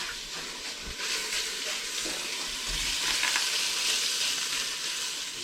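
Hot Italian sausage sizzling steadily in a hot pan, a dense continuous frying hiss with occasional low thumps from the pan, no voices.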